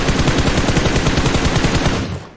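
Rapid automatic gunfire in a battle royale mobile game bursts out as a dense, evenly spaced rattle of shots, loud and close, continuing for a couple of seconds before trailing off.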